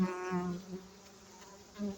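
Close, droning buzz of bees at a hive entrance fitted with a pollen trap, rising and falling in pitch, swelling at the start and end of a short stretch.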